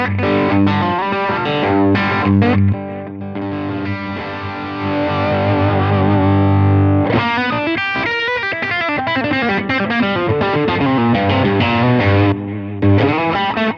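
Electric guitar through a distortion pedal called Protein plays loud, thick, saturated chords and sustained notes, then choppier riffing in the second half, alone with no talking.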